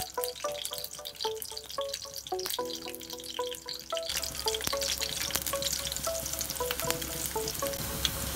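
Crushed garlic sizzles in hot oil in a kadhai for tempering, browning with a steady close hiss and crackle while soft background music plays underneath.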